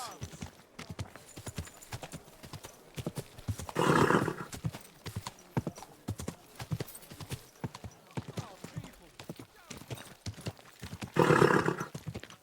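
Horse hooves clip-clop steadily in Kingdom Come Deliverance 2, a regular rhythmic trot running through the whole stretch, with two louder bursts that sound like a whinny or snort, and a voice talking over parts of it.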